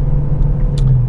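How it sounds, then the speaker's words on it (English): 2014 Ford Fusion EcoBoost with a small turbo engine pulling from 35 to 55 mph, heard from inside as a steady low rumble of engine and road noise, with faint ticks above it and no talking. "So here we are, we got 35 miles to the 55 mile an hour acceleration again."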